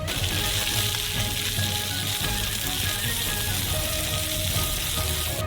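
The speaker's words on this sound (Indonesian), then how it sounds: "Lalu, tambahkan 2 jenis bawang bombay dan aduk." A steady, loud sizzle of onions frying in a hot wok, continuous crackling and hissing throughout with no voices.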